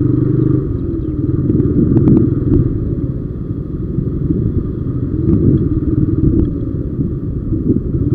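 A motorcycle rides along a road in Dhaka in the morning, with a steady, close engine rumble and road noise running throughout, with no speech.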